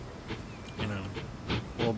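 Trains rolling along track in the video game Transport Fever 2, with a rhythmic run of soft, evenly spaced clattering bursts over a steady background hum.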